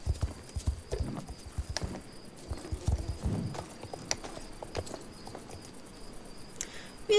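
Horse hooves clip-clopping while riding in the video game Star Stable Online, an uneven walking rhythm of soft thuds with a brief whinny, over light background music and no talking.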